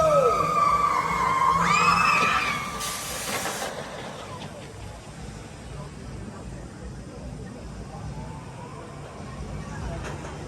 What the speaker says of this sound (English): we just had our second ride on stealth, waited for the front row